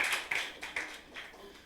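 Several people clap in a short, loose burst of hand claps with a few sharp individual smacks, fairly quiet, in a church service setting.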